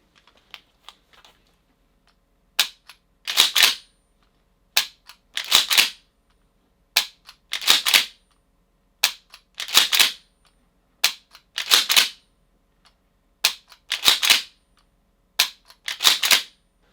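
Dry-fire practice with a shotgun fitted with a Taryag laser training cartridge: a steady series of sharp mechanical clicks, one paired action sound about every two seconds, close and crisp against near silence.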